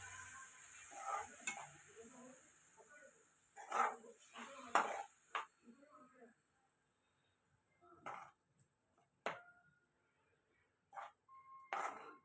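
Jaggery melting in water as it is stirred in a pan, with soft scraping and clinking of a spoon against the metal in irregular bursts and quiet gaps between.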